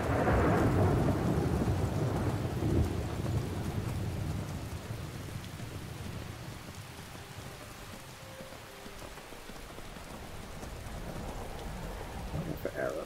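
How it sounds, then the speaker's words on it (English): Steady rain falls in the video game Skyrim, a dense hiss of drops on surfaces with a thunder rumble at the start, continuous and fairly loud throughout, easing slightly in the middle. "Let's get the Ivy Stick out of this stupid rain."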